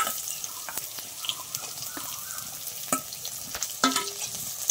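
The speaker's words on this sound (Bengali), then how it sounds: "এবার আমি পেঁয়াজ কটা দিয়ে দিচ্ছি।" Chopped onion dropped into hot oil with bay leaf and cumin, already fried potatoes in the pan, sizzling steadily while a spoon stirs and scrapes in sharp clicks, close and fairly quiet.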